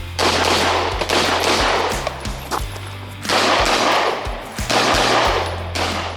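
Zev OZ9 Hypercomp X pistol fired in rapid strings on a shooting range, loud sharp cracks in quick bursts with short pauses between strings, close and echoing.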